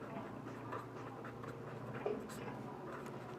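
Pen or marker writing during a Class 10 trigonometry lesson, a soft continuous scratching with small strokes and taps, faint against a steady room hum, with a slightly sharper tap near the middle.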